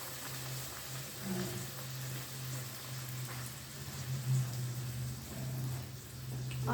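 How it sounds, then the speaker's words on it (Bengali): Kochuri frying in hot oil over high heat, a steady soft sizzle and bubbling hiss that runs continuously throughout at moderate level. "এদিকে তেল গরম করতে দিয়েছি, তেলের মধ্যে এবার দিয়ে দেবো।"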